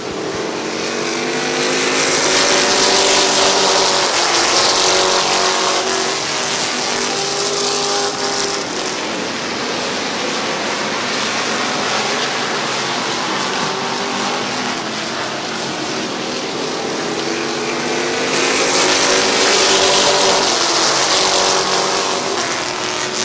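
Several race cars roar around Midvale Speedway while running three wide, engines loud and continuous with rising and falling passes throughout.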